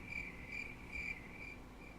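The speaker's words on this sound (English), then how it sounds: "all you heard was crickets" Crickets chirp in steady, evenly spaced trills, a quiet, thin insect sound alone with no voices.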